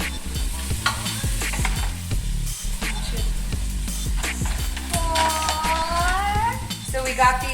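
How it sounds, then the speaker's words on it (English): Onions simmering and sizzling in a pan for vegan ramen, with steady frying hiss under frequent stirring scrapes and clinks of a utensil against cookware, close and loud, with faint voices in the background. "we're really wanting to simmer this until the onions are actually translucent"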